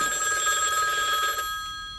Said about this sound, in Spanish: Está sonando el teléfono.